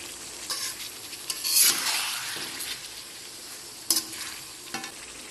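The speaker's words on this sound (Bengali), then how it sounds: "গরম মশলা দিয়ে কষিয়ে নেব।" Chicken frying with turmeric, chili powder, ginger, garlic and cardamom in a pan, a moderate sizzle broken by a burst of louder hissing and a few sharp spoon clanks against the pan, no talking.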